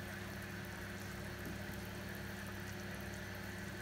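Water being poured or running into a pot while goat meat pepper soup is cooked with boiled plantain, a steady continuous liquid rush with a low pump-like hum throughout, no speech.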